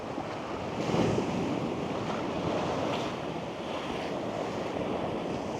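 Big ocean waves crashing onto a beach and surging up toward the steps on a calm day, a loud roaring break near the start that settles into continuous close surf wash with some wind noise.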